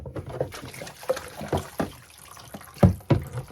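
Tap water running and splashing irregularly while a wig is rinsed in cold water, with uneven gurgles and a few louder splashes close by.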